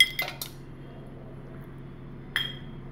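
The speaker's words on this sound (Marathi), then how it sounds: "थोडेसे मी आईस क्यूब घालून घेत आहे" Ice cubes drop into a container of coriander-mint chutney ingredients with jaggery, giving a few sharp, close clinks at the start and another clink near the end over a quiet room hum.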